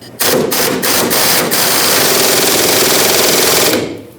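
A power tool fitted with a 15mm socket rattles a mounting nut loose on a 1999-2007 Ford F-350 during an air bag spring install, giving one loud, continuous burst of rapid hammering impacts that lasts about three and a half seconds, then stops.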